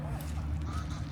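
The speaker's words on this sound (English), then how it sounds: "Are those Canadian geese?" Canada geese honking nearby, a few short nasal calls over a low steady background rumble.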